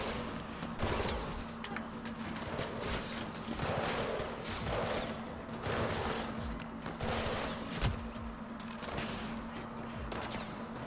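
Bursts of gunfire ring out in the video game Mirror's Edge Catalyst, a string of sharp repeated shots and rattles spread across the stretch with scattered thuds and movement sounds between them, steady in level and with no talk.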